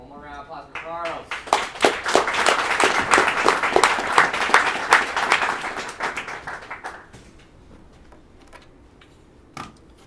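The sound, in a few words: audience applause after a talk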